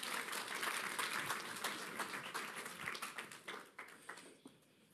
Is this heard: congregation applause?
yes